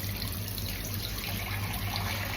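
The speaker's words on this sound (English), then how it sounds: "Now I'm going to put some more hot water in there, more washing up liquid" Hot water pours from a kitchen tap into a sink for washing up, a steady close hissing rush with no change in flow and no voices.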